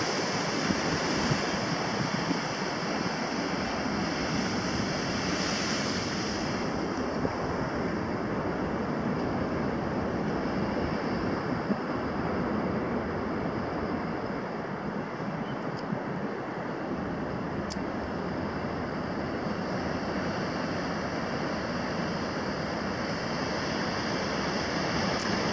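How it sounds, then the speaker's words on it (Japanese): Ocean waves crash against rocks on the Reykjanes coast of Iceland, heard from a high lookout as a continuous roaring surf wash, with wind buffeting the microphone throughout. "波の迫力もありますね。 岩にぶつかる波が結構、"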